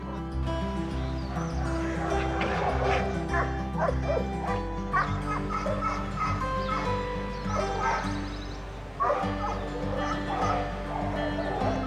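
Search and rescue dogs trained to find people trapped in collapsed structures bark and yip repeatedly at close range, with occasional whimpers, against a steady low hum and some background voices.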